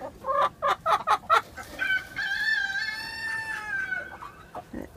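Backyard chickens: a rapid run of several loud clucks up close, then a drawn-out crowing call lasting a couple of seconds, with a few more clucks trailing at the end.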